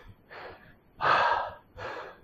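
Heavy breathing after a dumbbell workout, three loud, close gasping breaths, each about half a second long, with the middle one strongest and short pauses between them.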